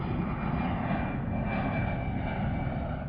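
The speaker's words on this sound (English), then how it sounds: "So the planes are landing and they're going straight past the mountain." An airplane comes in to land at Palm Springs airport, passing close by the base of a mountain, its engine a steady, fairly loud broadband roar with a faint high whine that holds level throughout.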